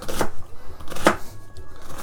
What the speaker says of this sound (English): keeping it flat to the board here, and we chop the other way around